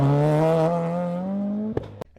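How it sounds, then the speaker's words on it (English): A Subaru WRX boxer engine drones steadily with a throaty, slightly falling hum for about two seconds before it cuts off sharply, followed by a brief clack. "Have you heard the sound of that glorious boxer engine?"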